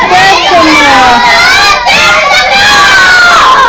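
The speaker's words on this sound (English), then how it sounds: "No screaming." Children in a fourth-grade classroom screaming and shouting together as a loud, continuous crowd of high-pitched voices, close and sustained throughout.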